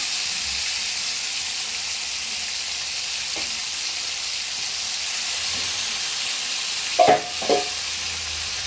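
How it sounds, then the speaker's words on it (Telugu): Pieces of food frying in oil give a constant, even sizzle and hiss close by. Two brief clinks or stirring knocks break through near the end, and no one speaks. "ఇవైతే కొద్దిగా వేగాలండి ఆయిల్లో"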